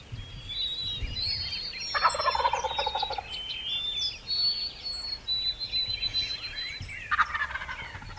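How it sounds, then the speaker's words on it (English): A wild turkey gobbles repeatedly some 150 to 200 yards off on public land, distant but clear bursts over steady birdsong and outdoor ambience. "Bird gobbling about 150, 200 yards now."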